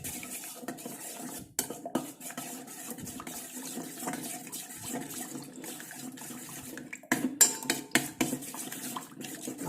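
A spoon stirs roasted, ground black cumin powder into water in a bowl, giving close clinks and scraping against the bowl with soft liquid swishing, busier and louder near the end.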